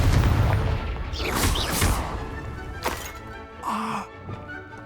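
A fiery spell blast in a Harry Potter video game, heard as a loud booming rumble that fades, followed by a few sharp impacts and whooshing effects.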